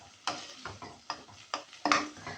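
Onions being stirred in a cooking pot for a vegetable soup, giving a series of soft scraping, sizzling strokes at a steady rhythm, up close and fairly quiet with no talk.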